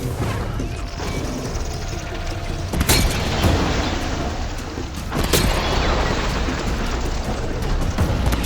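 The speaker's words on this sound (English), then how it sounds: "Let's shoot the freeze canisters." Heavy booming impacts and crashing bursts against a machine in Horizon Zero Dawn as freeze canisters are shot, two big blasts standing out over continuous rumbling game noise, no talk.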